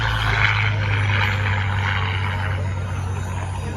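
A warbird airplane flies past at the California Capital Airshow, a steady loud engine drone with a low propeller hum that holds evenly throughout.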